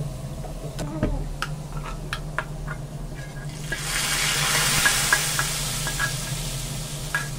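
Light clinks and stirring of a pot give way to a sudden, steady hiss as browned fried onion tempering is poured into nihari, the sizzle filling the background close by.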